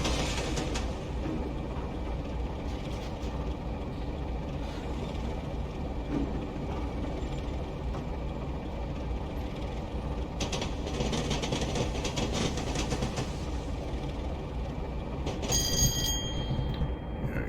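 A Class 37 diesel locomotive running on the Salisbury to Bournemouth route in Train Simulator Classic, a steady low engine drone and rail rumble throughout, with a brief bell-like ringing near the end.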